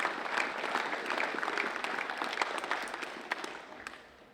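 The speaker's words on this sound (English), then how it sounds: "So can we please have a massive round of applause for Beck." An audience gives a round of applause at a Pride Round women's football league event. Dense, steady clapping fills the whole stretch and thins slightly toward the end.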